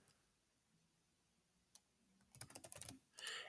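Typing on a computer keyboard while editing in Vim: a lone key tap, then a quick run of close, crisp keystrokes and a louder final clatter, heard with no speech.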